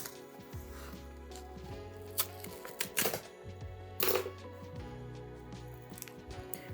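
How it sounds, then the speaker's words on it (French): Pliers tear at a plastic blister pack, giving faint, irregular crinkling, snapping and clicking plastic sounds in a quiet room, with a few sharper cracks. "Je vais devoir invoquer la pince, la fameuse pince qui ouvre tous mes paquets."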